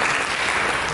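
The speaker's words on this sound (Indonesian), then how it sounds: "tepuk tangan bagi Yesus." Church congregation clapping in applause, a dense steady burst of many hands filling a short moment, fairly loud and without speech.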